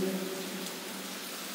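Steady rain falls on a rainy day across open ground with plants, a broad even hiss of drops heard from nearby at moderate level, with no talk.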